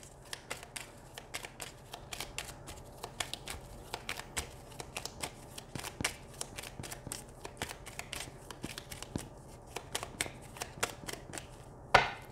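Lenormand oracle cards shuffled by hand in a steady series of crisp riffling slaps and flutters, close and fairly quiet, with no talking.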